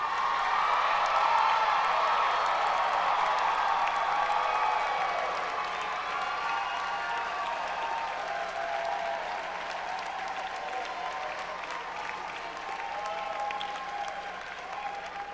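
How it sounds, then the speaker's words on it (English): Sustained applause with crowd cheering from graduates at a university spring commencement ceremony, dense clapping from a large hall that stays steady and slowly softens over about fifteen seconds. "this is a chance for the students to stand up and turn around and cheer your parents and your loved ones."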